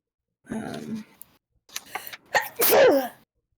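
A single loud sneeze close by, preceded by a sharp intake of breath and a short vocal sound.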